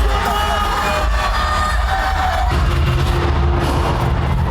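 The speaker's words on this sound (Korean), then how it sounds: "결승전을 맞은 양 팀의 거대한 함성이" A sold-out esports championship final in a stadium of about 13,000 seats erupts in a huge, continuous roar of cheering fans, with shouts and whoops swelling over the wall of crowd noise.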